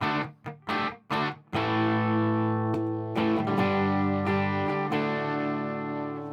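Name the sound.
electric guitar through Quilter amp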